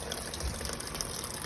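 Tap water gushes from a faucet into a small portable automatic clothes washing machine, a steady, continuous rushing flow at low level with no talking.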